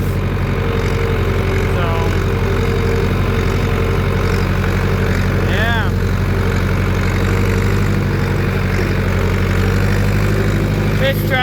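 A non-turbo farm tractor engine idles steadily and loudly with a low, even throb, while someone speaks briefly over it.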